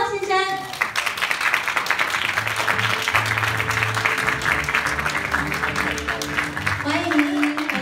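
A ceremony audience at the 50th Golden Horse Awards applauds as the host comes on stage, with sustained dense clapping under music and a voice speaking over it.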